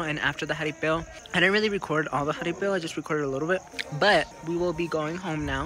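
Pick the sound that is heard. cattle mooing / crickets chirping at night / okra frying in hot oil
crickets chirping at night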